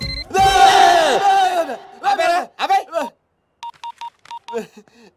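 Telephone keypad tones beep in a quick series of short, evenly pitched bursts, following a loud stretch of laughing, shouting voices in a comedy scene.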